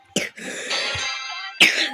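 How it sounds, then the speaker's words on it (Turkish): Two sharp coughs, close by, separated by a short pause with a faint throat-clearing rasp between them. "Bayağı öksürüyorum niyeyse."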